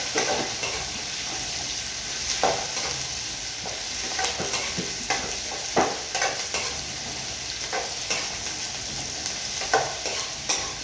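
Garlic and onion sizzle steadily in a hot pan for a Filipino tanigue fish with tausi dish, with scattered louder crackles and stirring scrapes over a constant frying hiss.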